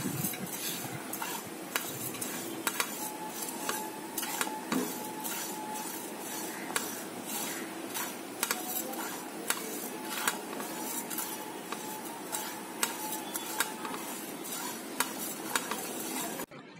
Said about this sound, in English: Now I've heated a pan and I'm going to dry roast 2 tablespoons of fennel seeds or saunf.